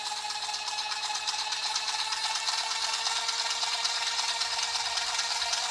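Taigen RC tank smoke unit running at a high setting, giving a steady, continuous buzzing whir with a faint rattle that holds level throughout, close by and without speech.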